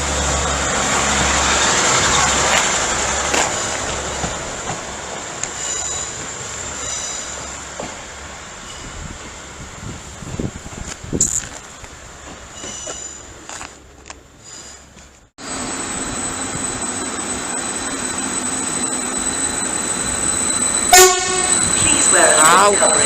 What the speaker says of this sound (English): 156 916 has departed with the 1416 East Midlands Railway service to Norwich.